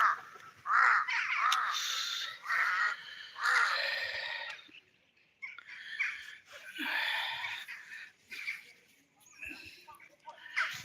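Crows caw repeatedly around a spot where food was set out for a puppy, harsh calls coming in bursts with short gaps, fairly close and moderately loud, some overlapping.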